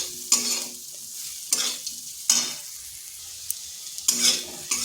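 Dry ground poppy seed paste being stirred into bitter gourd in a pan over a low flame, several distinct scraping stirs with soft sizzling between them, close and clear, no voices.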